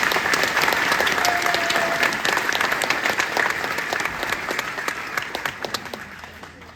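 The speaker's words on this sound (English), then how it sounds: "Please give Drill Sergeant Smith a round of applause." Audience applause at an Army drill sergeant graduation ceremony, a dense, steady round of clapping from a large crowd that starts full and gradually thins and fades over several seconds, with no talking over it.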